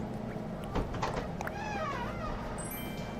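A cat villager in Animal Crossing: New Horizons meows in a few short, close calls, followed by a rising, wavering tonal mew over a steady background.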